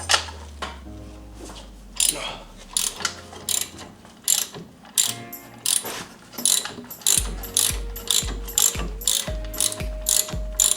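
A ratchet fitted with an 18 mm socket clicks in repeated close bursts while loosening the brake caliper bolts on a 2013 Chevrolet Sonic, with short pauses between strokes and metallic clinks in between.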